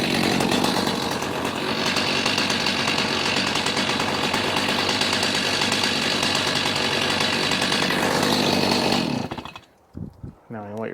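A chainsaw, started with the chain brake engaged and the switch in run position, roars loudly and steadily at close range for about nine seconds before cutting off, leaving a quiet stretch with a few faint sounds.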